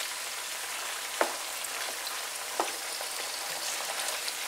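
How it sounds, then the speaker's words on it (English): Potatoes frying in a pan for huevos estrellados, a steady close hiss of sizzling oil with a few sharp pops breaking through, no voices. "will take like around 20 minutes to fry the potatoes"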